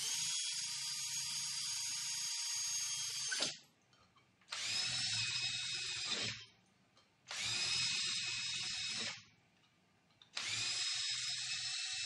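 A power drill with a 4.5mm bit bores into steel trunking in four separate bursts, each a loud, steady, high-pitched whine lasting a few seconds, split by short quiet pauses.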